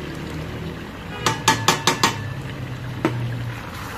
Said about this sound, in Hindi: अब हम इसमें ये दही डाल देंगे।